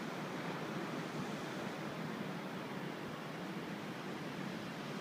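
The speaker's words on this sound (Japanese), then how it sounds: "まだ面が綺麗で、セット選べばアクションも可能な波が入ってきております" Ocean surf rolls onto the beach at Kizakihama on a clear morning with a light northwest wind, a steady broadband wash of breaking waves heard alone at an even level with no voices.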